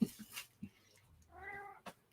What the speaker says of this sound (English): He is a goofy cat.